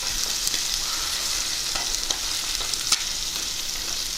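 Eggs fry in a pan with a steady bright sizzle and scattered small pops and crackles, heard close and unbroken, with no talking.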